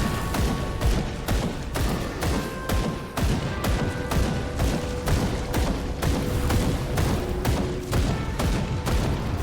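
Gunfire in the action RPG Grim Dawn: sustained, dense volleys of shots and impacts rolling on without a break for several seconds, loud and close, with no talking.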